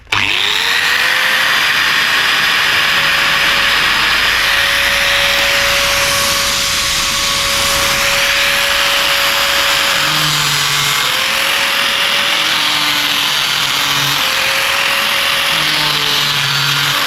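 A power tool whines loudly and continuously while cutting PVC pipe, the pitch holding steady before dipping and recovering in several short bursts as the blade bites the plastic; no one talks.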